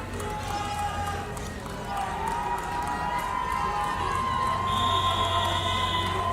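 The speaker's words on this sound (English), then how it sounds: "You can hear the American fans cheering on their athletes" American fans cheer on their crew from the shore at a world rowing championship, a steady distant roar of crowd voices and shouts that swells slightly toward the end.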